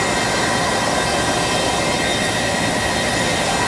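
A Screen 520HD printing press runs with a steady, loud, continuous roar and broadband hiss, unbroken throughout with no talk.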